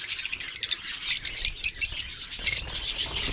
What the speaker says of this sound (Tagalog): para sa ating mga ibon na African lovebird